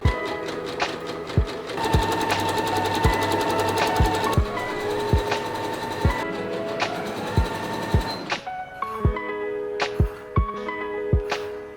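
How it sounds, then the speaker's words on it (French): A sewing machine stitching flesh-toned lining for a bikini top, a steady fast mechanical whir with clicking needle strokes, then slower, spaced thumps as the stitching eases off, close and alone without talk. "Et après, je vais pouvoir commencer à coudre."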